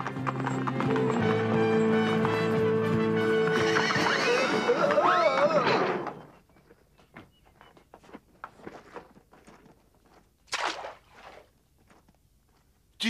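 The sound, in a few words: stagecoach horses neighing and galloping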